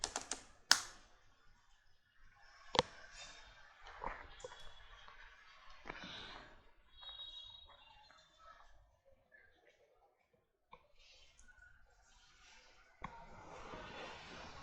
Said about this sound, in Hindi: अब मैं ये कमांड apt अपडेट टाइप करता हूँ